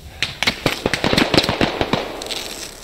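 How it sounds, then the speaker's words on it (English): Rapid, loud gunfire from a Squad video game firefight crackles in a dense string of sharp shots and short bursts, close and continuous, with no speech. "We are completely pinned down. Heavy contact."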